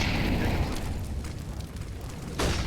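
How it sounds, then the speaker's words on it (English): A grenade blast in a competitive esports shooter match, a loud broad rumbling explosion that fades into low decaying noise, with a second sharp burst near the end. "I mean, a decent nade from Stitch."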